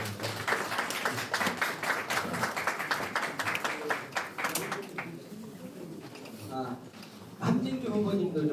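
Applause from an audience gathered at a Korean People Power Party campaign event, steady clapping for several seconds that fades out, with voices talking over it and a louder burst of speech near the end.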